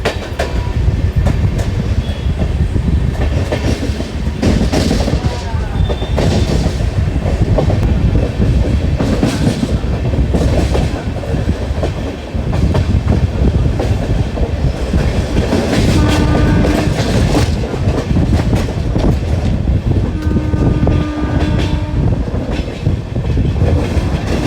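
Sabari Express running with new LHB coaches on the line past Nidubrolu Junction near Tenali and Guntur: a steady, loud rumble of wheels on rails with clickety-clack joints, continuous throughout with no talk.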